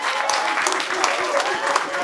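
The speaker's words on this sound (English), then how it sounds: "And a round of applause for Showtime Shawn Porter." Audience applause at a boxing post-fight press conference, a dense, steady wash of clapping and crowd noise sustained throughout, with voices mixed in.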